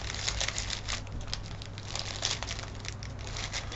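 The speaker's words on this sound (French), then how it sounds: "Je suis désolée de vous casser les oreilles avec ce papier plastique là." Plastic wrapping crinkles and rustles close up, a continuous crackling handled without pause.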